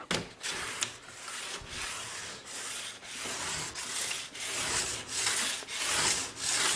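A sharpening stone rubs along a steel ski edge during a tune, a steady series of close, scraping back-and-forth strokes, about a dozen passes in a regular rhythm with no talking.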